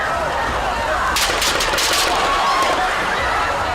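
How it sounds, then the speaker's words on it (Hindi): Gunshots ring out at an outdoor political rally in Pennsylvania: a cluster of sharp cracks over the steady roar of a large crowd. "पेंसिल्वेनिया की रैली में मंच पर भाषण दे रहे ट्रंप पर गोलियां दागी गई"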